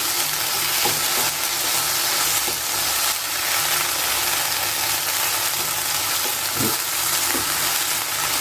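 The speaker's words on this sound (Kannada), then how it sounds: "ಮೀಡಿಯಮ್ ಫ್ಲೇಮಲ್ಲಿ ಇಟ್ಕೊಂಡ್ಬಿಟ್ಟು ನಾನು ಇದನ್ನು ಚೆನ್ನಾಗಿ ಫ್ರೈ ಮಾಡ್ಕೋತಾ ಇದ್ದೀನಿ" Okra frying in a pan on a medium flame for a traditional Havyaka-style dish, giving a steady, close sizzle throughout with occasional soft stirring clicks and no voices.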